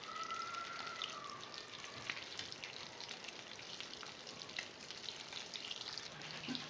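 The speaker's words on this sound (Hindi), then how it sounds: "इसी तरह हम अब दूसरी भी तल लेते हैं" Potato and egg patties fry in hot oil with a steady, close sizzle and fine crackle that runs throughout without any talking.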